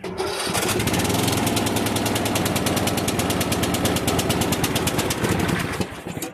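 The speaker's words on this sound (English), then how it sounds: "Lawnmower works." A lawnmower engine starts and runs near and loud for about six seconds, a rapid steady putter with a buzzing rhythmic pulse that holds even before cutting out, with no talking.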